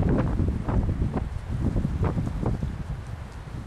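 Strong wind gusts buffet the microphone outdoors at a winter forest camp, producing loud, irregular rumbling bursts that rise and fall in quick succession with no voices.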